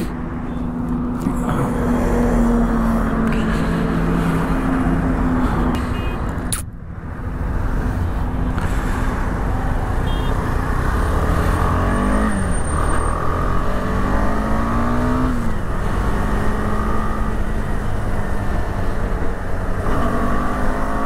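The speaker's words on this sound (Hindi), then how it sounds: "भाई काफ़ी दिनों बाद बाइक चला रहा हूँ मैं" Motorbike riding along a road toward a dam, a continuous engine drone with rushing wind noise and shifting pitch as it accelerates, loud and close throughout with one brief dip.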